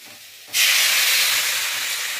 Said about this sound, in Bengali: এবার আমি একটু জল দিয়ে দেবো